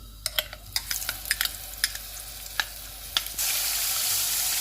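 Ginger-garlic paste hits hot oil with whole spices, giving a soft sizzle punctuated by sharp spoon clicks against the pan, then swelling into a loud, steady hiss of frying.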